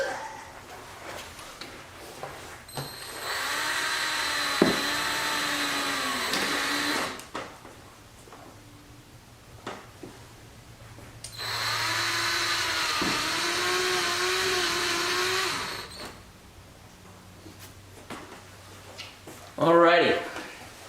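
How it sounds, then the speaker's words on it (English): A power drill whines in two sustained bursts of several seconds each while pre-drilling small holes to mount a rear diffuser on a Corvette C7, with quiet pauses between. "we've got our holes pre-drilled, very small, and everything's gonna line up the way we need it to"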